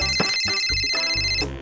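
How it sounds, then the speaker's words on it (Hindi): A mobile phone rings in a mango orchard with a loud, close melodic ringtone, bright electronic notes stepping through a tune without pause before fading at the end; no one speaks. "उसका फोन बजा।"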